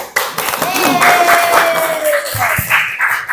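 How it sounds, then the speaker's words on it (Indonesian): Students in a classroom applaud themselves, a brisk burst of many hands clapping mixed with excited voices, fairly loud and continuous before tapering near the end. "tepuk tangan."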